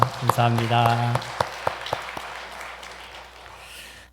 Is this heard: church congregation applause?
yes